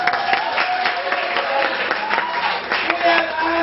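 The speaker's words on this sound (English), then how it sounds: "Round of applause," Crowd applause at a stand-up comedy show in Bournemouth, a moderate burst of clapping from the audience with a few louder claps and some voices mixed in underneath.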